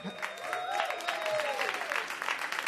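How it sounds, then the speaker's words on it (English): An audience at a stand-up comedy show claps in a dense, steady burst, with a voice speaking over the applause. "That's another great opportunity for an applause break."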